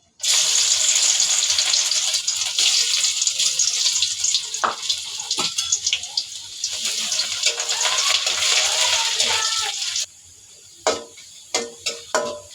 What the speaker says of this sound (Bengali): এখন আমার তেলটা গরম হয়ে গেছে। এই যে একটা শুকনা মরিচ তেলের ভিতরে দিলাম। এখন দেবো যে রসুন কুচি